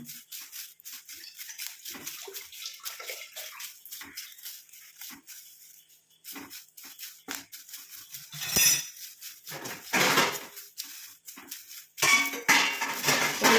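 Curry leaves crackle while frying in an iron kadai, producing a rapid, irregular stream of close clicks and pops mixed with light metallic clinks, growing louder and denser toward the end.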